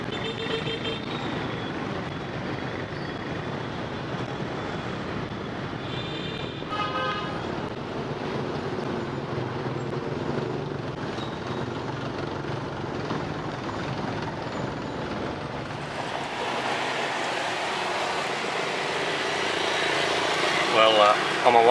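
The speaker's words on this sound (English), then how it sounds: "Welcome to Saigon, and it's traffic." Heavy road traffic in Saigon, Vietnam, a dense continuous drone of engines with scattered horn toots and beeps, steady and close, under a talking voice, swelling louder toward the end.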